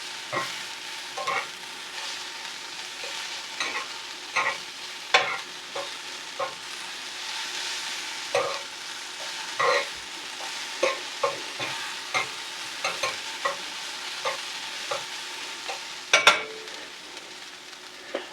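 Onions fry in a pan under a steady sizzle while a utensil stirs and turns them, with repeated scraping clacks at an irregular rhythm, close up and without talk.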